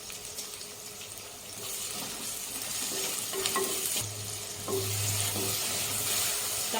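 Tomatoes and salt are stirred as they fry in a pan for chicken curry, giving a continuous hissing sizzle with spoon scrapes and intermittent watery bubbling.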